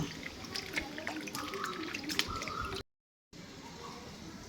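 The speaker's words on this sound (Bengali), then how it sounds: "ভালো করে এবার ধুয়ে নেব।" Chopped raw green mango being rinsed in a bowl of water, with wet squishing, sloshing and dripping close by, a brief pause, then quieter water movement.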